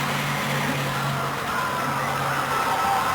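A mud bog racing car's engine runs at the 1989 USHRA Houston Astrodome thrill show, a loud, steady mid-range rumble close by, holding an even idle-like drone throughout with no talk on top.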